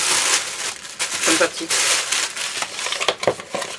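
Close crinkling and rustling of paper wrapping being pulled open in bursts, with a brief spoken word partway through.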